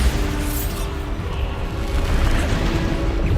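Booming spell blasts from the Bombarder charm in Hogwarts Legacy, a dense, rumbling barrage of repeated explosive impacts with heavy low-end thuds continuing throughout.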